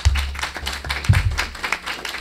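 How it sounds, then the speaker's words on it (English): An audience at a Portland, Connecticut Board of Selectmen meeting breaks into brief applause, a short burst of scattered hand claps with some low voices underneath. "You all deserve a round of applause."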